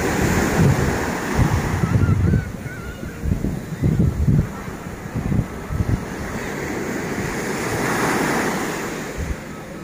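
Ocean waves wash steadily onto a calm bay beach, a continuous close surf roar with rising and falling swells and wind buffeting the microphone, no voices present.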